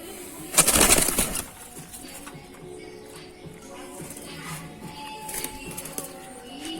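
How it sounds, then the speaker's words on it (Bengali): Doves kept near pigeons coo softly amid other bird sounds, after an opening burst that sounds like flapping wings. A faint voice is also present. "এগুলো ঘুঘু পাখি, দেখতে সেম কবুতরের মতোই"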